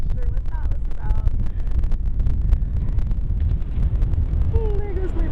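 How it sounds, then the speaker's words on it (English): Outdoor wind buffets the microphone in a loud, continuous low rumble during a yoga session, with brief scattered knocks and faint higher tones over it. "It's a windy day."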